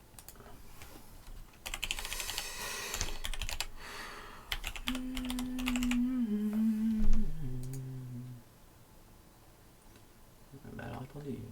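Keys clatter on a computer keyboard in quick bursts as a password is typed, close and fairly quiet, with someone talking in French between and over the typing.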